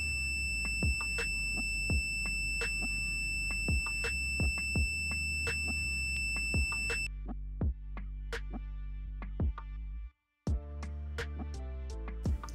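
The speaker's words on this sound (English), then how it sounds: "the Arduino activates the buzzer." A high, steady electronic buzzer tone from an Arduino temperature alarm sounds continuously for several seconds and then stops, over a low hum and regular thumping beats.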